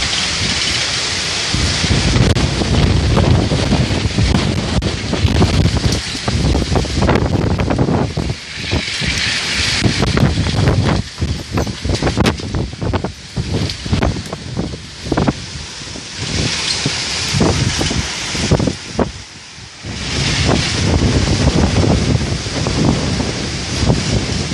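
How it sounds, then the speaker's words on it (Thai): Strong gusting wind from a summer storm in Ban Phai, roaring continuously with broadband rushing and buffeting against the microphone, rising and dipping in loud surges across the whole stretch with no voices. "ลมแรงมาก"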